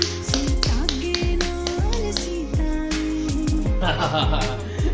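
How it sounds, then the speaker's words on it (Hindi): Family members clap their hands at a home wedding anniversary celebration, a run of sharp close claps over steady background music, with voices talking throughout. "ताली बजाओ।"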